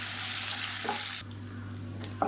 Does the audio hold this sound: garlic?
yes